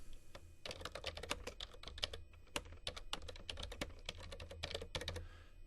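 Rapid, continuous clatter of keys being typed on a computer keyboard while entering a form field's tooltip text, close and steady, with no voices.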